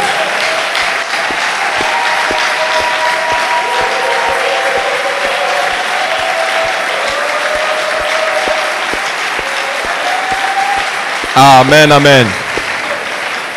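A congregation at a morning church service applauds steadily and loudly for several seconds, with people calling out over the clapping and a voice answering near the end.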